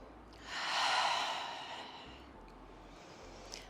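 A single deep breath during yoga, a breathy rushing exhale that swells and fades over about a second and a half, close and soft, followed by quieter breathing with no talk.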